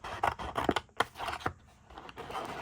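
Scissors cut a small piece of gold craft material for vintage Halloween decor, making a series of close, crisp snips and rustles. Short pauses separate the cuts.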